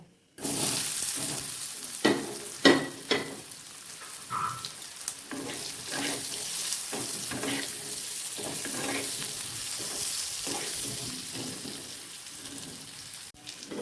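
Steady crackling sizzle of boiled potatoes with turmeric and salt frying in hot oil, with occasional stirring clinks and scrapes throughout.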